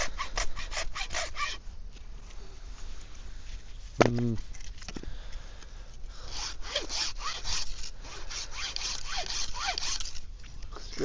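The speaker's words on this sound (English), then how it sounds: "So we're going to have to chop up with the hacksaw" Hacksaw cutting firewood at a wild campsite on a Scottish island, a close run of rapid rasping strokes that pauses briefly and resumes, with a clunk midway and faint talk in the background.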